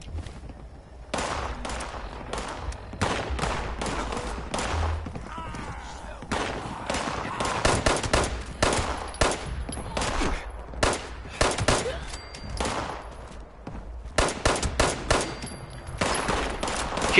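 Rapid gunfire in the game Fallout 76, with repeated sharp bursts and single shots cracking loudly throughout a chaotic fight, growing denser toward the end, with faint voices under the shooting.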